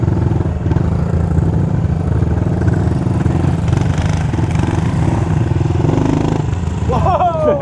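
A 110cc dirt bike engine running loud and close while riding, a steady buzzing drone with slight rises in revs and a brief shout near the end.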